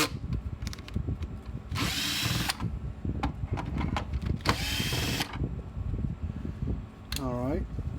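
A cordless drill with a Phillips bit loosens two screws on the back of a Gallagher S20 or S50 electric fence charger, two sustained whirring bursts close by between clicks and handling, ending with a brief tonal squeal.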